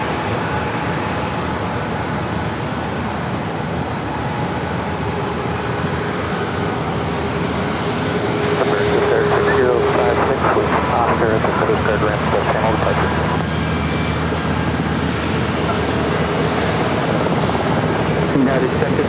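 Airplanes at San Diego airport: a loud, continuous jet engine roar that swells partway through and holds steady, with radio chatter and talk heard over it.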